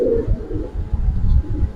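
A Sabchila female pigeon coos in a low, throaty, rolling rhythm, close and fairly loud throughout.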